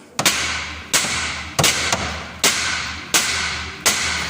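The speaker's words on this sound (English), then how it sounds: "I can give this a few taps." Six sharp hammer taps strike a Land Rover Defender Td5 A-frame ball joint on the axle, evenly spaced metallic thuds ringing close and loud with brief decays between blows.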